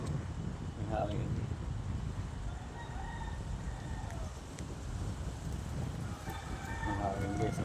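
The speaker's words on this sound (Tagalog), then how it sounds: "Malakas sa hangin guys." Strong morning wind roars steadily and close across an outdoor spot, with a rooster crowing in the background and a voice talking over it.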